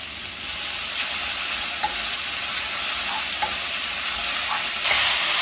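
Steady sizzling of potatoes frying in oil in a pan over medium heat, with a few soft scrapes and clicks as they are stirred; no voices.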